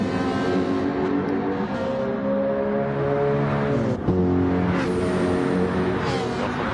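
Mercedes AMG GT3 race car in a racing video game, engine running unevenly down on power, shifting harmonic tones that drop sharply around the middle then climb again, steady and close.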